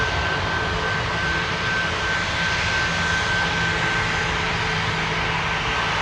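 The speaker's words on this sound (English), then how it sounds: "WestJet to Calgary, 737-800, flight 674." Boeing 737-800 jet airliner operated by WestJet at Toronto Pearson airport, engines producing a steady, loud broadband roar with a faint high whine that holds constant throughout without a break.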